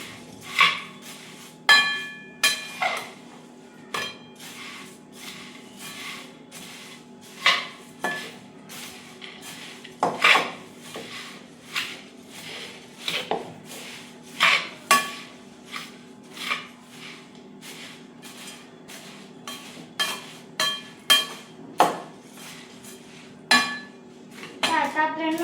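Onion, farsan, coriander and puffed rice with salt, oregano and chili flakes being tossed in a bowl, giving repeated close clinks and scrapes of a spoon against the dish in an uneven rhythm.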